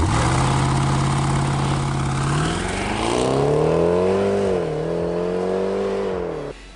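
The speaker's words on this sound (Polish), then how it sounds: "ten samochód naprawdę świetnie brzmi" A Jaguar F-Pace SVR engine idles with a deep rumble, then revs up in a rising, falling surge before settling and cutting off abruptly.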